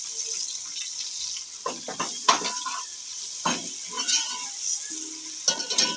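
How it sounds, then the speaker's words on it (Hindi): Ginger garlic paste sizzling with browned onions in a pan for a fish curry. A soft hiss of frying runs under intermittent scrapes and clinks of a spoon stirring against the metal, all close up. "1 चम्मच हमने इसमें पेस्ट डाल दिया। थोड़ी देर इसको भुनेंगे"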